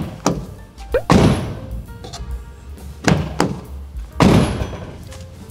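Knuckles rap on a bare, unlined body panel of a Renault Master camper van, producing several hollow, resonant thumps in uneven groups, loud and close.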